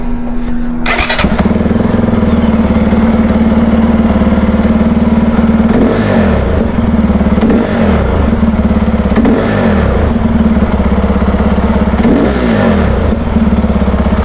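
Exhaust of a CSC RX4 single-cylinder motorcycle, a loud close thumping idle that starts with a sharp burst, then steady throbbing with several short throttle blips spaced a few seconds apart.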